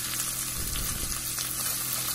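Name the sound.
onions sautéing in a pan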